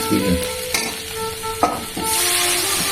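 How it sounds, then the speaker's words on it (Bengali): Hot water poured into a cooking pan on the stove, a steady rush and hiss with stirring clatter and sizzle throughout, close and loud, with a brighter splashing surge near the end. "এবার গরম জল দিয়ে দিচ্ছি"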